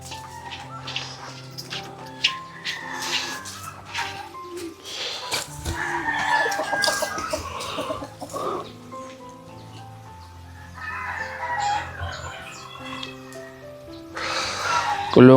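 Native chickens cluck repeatedly around a yard while a rooster crows loudly a few times, with scattered background chatter and other farm animals.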